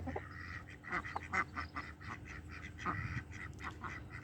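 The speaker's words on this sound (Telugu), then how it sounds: "బాతులు అంతేనండి భయపడితే అలా వచ్చేస్తాయి" Several ducks startled by dogs quack in quick, overlapping bursts nearby, a noisy cluster of calls rising and falling against a steady low background.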